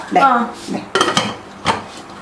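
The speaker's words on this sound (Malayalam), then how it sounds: "ഇനി നമുക്ക് കുക്കറിന്റെ അടപ്പ് കൊണ്ട് അടക്കി കേട്ടോ" A lid is put on a pressure cooker of mutton roast with a few sharp metallic clunks and some pot clatter. The clunks come in short separate knocks, close and fairly loud.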